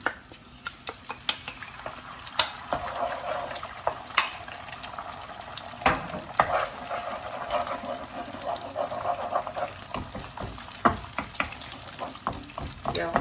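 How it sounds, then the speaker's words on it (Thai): Beaten eggs frying in a pan before a sweet and sour stir-fry, a continuous crackling sizzle with frequent clicking scrapes of a utensil, close and fairly loud, no talk heard. "เจียวไข่ก่อนผัดนะคะ"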